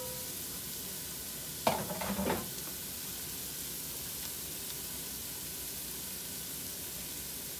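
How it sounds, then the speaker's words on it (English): Garlic and turmeric sautéing in a pan make a quiet, steady sizzle, with a brief burst of stirring clatter about a third of the way in, then a soft hiss that continues. "And let it saute"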